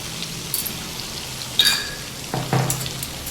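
Cumin seeds tempering in hot butter in a kitchen pan, a soft steady crackling sizzle with a few sharper pops and a clink of utensils near the end, no talk.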